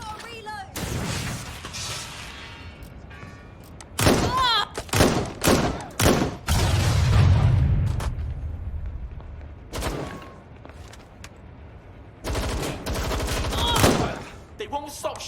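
Enemy gunfire in the video game Watch Dogs Legion, with loud close bursts of rapid shots and heavy booming impacts coming in clusters over a steady background rumble.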